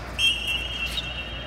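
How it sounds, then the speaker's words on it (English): A whistle blown during a spiking warmup drill, one sustained shrill tone lasting most of a second, clear and fairly close over faint background noise. "Every time the whistle's blown, you get a spike motion."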